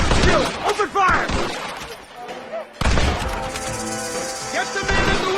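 Gunfire in Red Dead Redemption crackles in rapid, loud bursts, drops into a short lull, then erupts again in a dense volley, with shouting voices mixed into the shooting.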